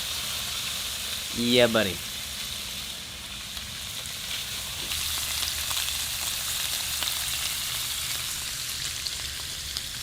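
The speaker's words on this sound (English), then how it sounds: "Cooking up my ground beef right now." Ground beef fries in a pan in a small kitchenette with a soft, steady sizzle and crackle throughout, and someone speaks briefly near the start.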